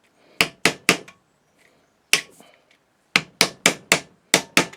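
An old screwdriver is struck hard with a hammer to chisel a slot between drill holes in sword-making steel, giving sharp close metallic whacks in quick groups of three to four with silent pauses between.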